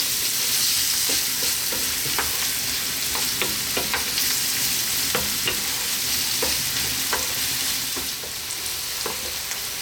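Onions and garlic fry gently over medium heat, a steady close sizzle and crackle with occasional soft stirring scrapes, no voices.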